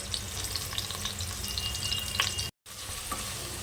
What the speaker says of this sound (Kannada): ಮೀಡಿಯಮಲ್ಲಿ ಇಟ್ಕೊಂಡು ಫ್ರೈ ಮಾಡ್ಕೊಬೇಕು ಎಲ್ಲನೂ. ಇದು ಫ್ರೈ ಆಗ್ತಿರಲಿ.